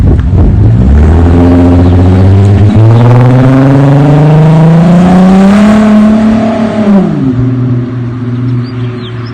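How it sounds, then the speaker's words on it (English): Volkswagen Mk4 with a VR6 engine revs hard, its exhaust note climbing steadily in pitch, holding, then dropping back to a loud, throaty idle, close and continuous. "So, we're gonna do exhaust sounds"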